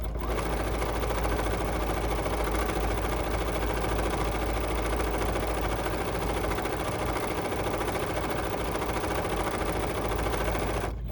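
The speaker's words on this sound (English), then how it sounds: "so let's use the tulips and let's stitch these little guys" A BERNINA sewing machine stitches a row of decorative tulip stitches, its steady motor hum and rapid needle clatter running continuously and fairly loud, with no talking.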